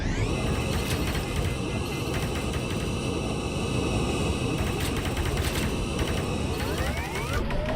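A laser weapon fires in the VR shooter Space Pirate Trainer with a rapid, rattling stream of mechanical ticks over a bright electronic hum. Near the end, quick rising sweeps climb upward.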